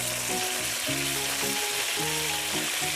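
Chicken fries in a tablespoon of oil in a pan, making a loud, dense, continuous sizzle close up with no talk.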